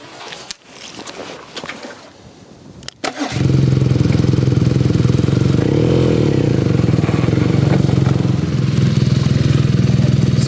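A BMW R nineT Racer motorcycle engine starts after a few seconds of quiet handling noise, then settles into a loud, steady, close idle that holds for the rest of the clip.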